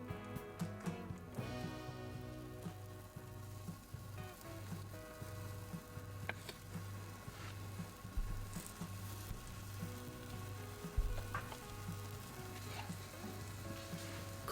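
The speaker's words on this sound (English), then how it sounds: "Heat some oil in a pan and drop spoonfuls of batter onto it." Spoonfuls of apple pancake batter fry in hot oil in a pan, a soft, steady sizzle with faint crackles that carries on for the whole stretch over quiet background tones.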